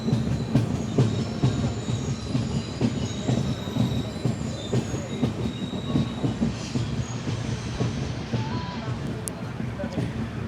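A passenger train on the Guruvayur line rolls into Poonkunnam station, a steady close rumble of wheels and carriages with faint high squeals and clatter throughout, while voices talk over it.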